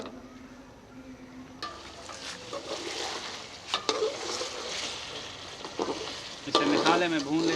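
Fish pieces sizzle and fry in masala inside a karahi, a steady crackling hiss broken by a few sharp spoon clatters and scrapes, close and fairly loud, with no talking.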